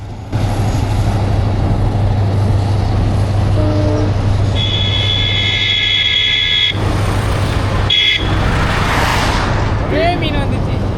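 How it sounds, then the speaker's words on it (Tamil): A train crosses the Pamban Bridge close by with a loud, steady rush, and sustained horn-like tones sound partway through. "ட்ரெயின் நம்மளை பாஸ் ஆகி போய்கிட்டே இருக்கு."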